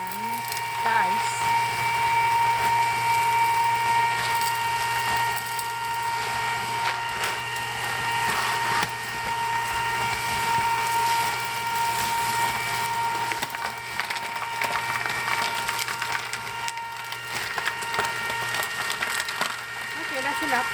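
An ice cream maker churns strawberry ice cream in a canister packed with salt and ice, giving a steady, close mechanical grinding and rattling drone throughout with a constant motor hum.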